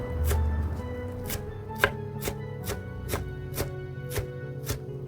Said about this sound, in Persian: 300 گرم شوید تر پاک شده داشتیم با 100 گرم نعنای محلی تازه که با هم چاقو را قشنگ خورده کردم